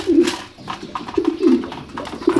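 Pigeons coo in soft, throaty repeated calls close by in a loft while feeding, several birds overlapping in a low murmuring chorus.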